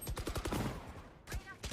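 Rapid automatic bursts from the Spectre submachine gun in the shooter game Valorant, a quick rattle of shots followed by a short pause and another brief burst, moderately faint.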